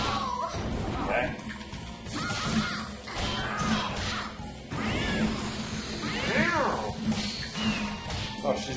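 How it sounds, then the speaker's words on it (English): Cat fighter in the fighting game Bloody Roar: Primal Fury letting out repeated yowls and snarling meows amid hit and smash effects, over a steady game soundtrack while someone talks throughout. "she's awesome. Just because of the authentic cat sounds"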